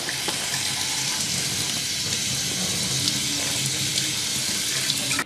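Steady running water splashing over flattened rice (poha) in a sink, continuous and close, with faint clinks of a bowl and no talking.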